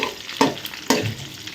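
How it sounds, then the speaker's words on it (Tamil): Eggs frying in hot oil in a pan, a soft steady sizzle with two sharp clinks or stirs of a utensil, close and fairly quiet. "இன்னும் 3 முட்டையை நல்லா எண்ணெய் கொதிச்சதுக்கப்புறமா சட்டியில் போட்டு எடுத்துருங்க"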